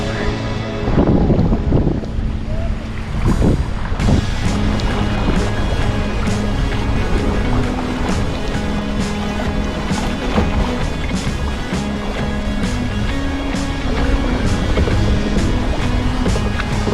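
Kayak paddling on the Adriatic Sea off Vodice, Croatia: steady, close water swishes and wind noise run throughout, with a few sharper paddle splashes near the start.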